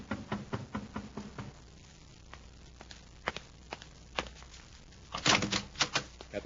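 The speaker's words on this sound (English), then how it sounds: "there's another knock at the door." In an old-time radio drama, sharp wooden taps and footstep-like thuds build into a louder cluster of knocks at a door near the end, all close and dry.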